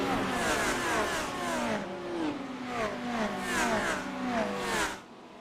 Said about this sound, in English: roaring up to speed at about 50 miles an hour